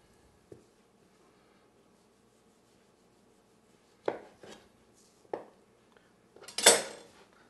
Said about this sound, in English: So I'm going to follow this fat line right here and trim it off.